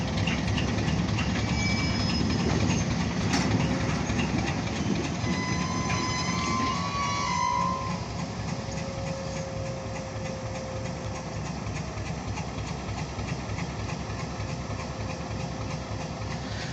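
An OC&T grain hopper freight train working in a freight yard: loud, continuous rumbling of rolling cars with rhythmic wheel clatter and thin squealing tones, steady throughout and fairly close.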